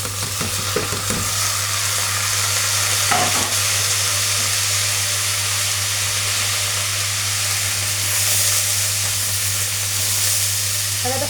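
Rice stirred into browned vermicelli in a pot, frying with a steady sizzle and hiss, a few scraping stir strokes near the start, no talk.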